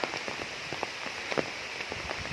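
Rain falls steadily near a fog-covered mountain forest, a dense and even patter of drops on surfaces with no voices.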